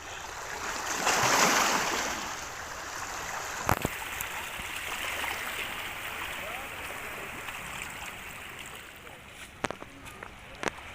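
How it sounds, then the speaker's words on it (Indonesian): Sea waves washing onto the shore at Kampung Kenjeran beach by a fishing village, a steady rushing surf with wind, a louder surge early on and occasional knocks and splashes nearby. "kali ini kami sedang menikmati ombak dan air laut di tepian pantai Kampung Kenjeran"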